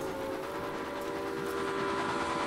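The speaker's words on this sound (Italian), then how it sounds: "Mo sì che è un treno espresso." An express train rolling along rails in the Railway Empire game, a steady moderate rumble with a sustained tonal hum throughout, heard alone with no talking.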